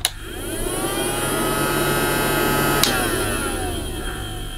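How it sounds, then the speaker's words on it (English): A Casdon Dyson DC24 toy vacuum cleaner's suction motor whirs steadily after a click, a loud high-pitched electric whine that holds constant, with a brief switch knock midway. "To turn on the suction motor at the back of the cleaner, there is a little slide switch, so you push that down to turn the motor on"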